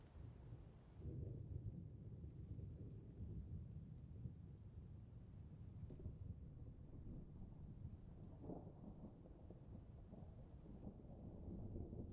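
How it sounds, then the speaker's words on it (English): Steady rain with low rumbling thunder rolling underneath, a faint, constant background wash with a few swells and no talking. "The rain background noise"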